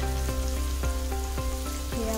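Tomato and ground spices (chili powder, turmeric, coriander-cumin powder) fry in oil for Maharashtrian pithala, a steady crackling sizzle broken by several regular scraping stirs of a spoon against the pan, close and loud.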